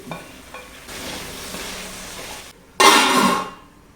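Green chilies and tomato hit hot oil in a pan for a Kerala theeyal, a faint steady sizzle followed by a louder burst of frying and stirring that gradually fades.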